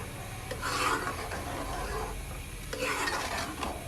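Chutney kabab mixture cooking over a high flame in a pan, with a steady low sizzle and scraping, rasping stirring strokes that swell in two bursts, close and continuous, no talking.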